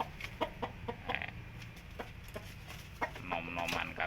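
Roosters and hens cluck and call in a free-range farm pen, with scattered close clucks and a longer crowing call near the end over a quiet outdoor background.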